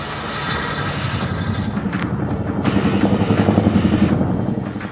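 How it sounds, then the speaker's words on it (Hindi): Military helicopter flying over Ladakh near Pangong Lake, a steady loud rotor and engine roar with rhythmic blade pulsing that swells slightly toward the end, heard alone with no voices. "पेंगोंग झील की हेलीकॉप्टर से निगरानी"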